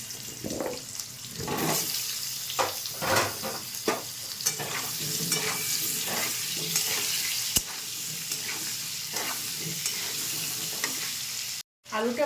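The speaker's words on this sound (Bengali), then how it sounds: "আলুটাকে একটু ভেজে নেব।" Potatoes frying in hot oil in a pan for an egg, potato and capsicum curry: a continuous close sizzle broken by regular scraping stirs and crackling bursts, no voices.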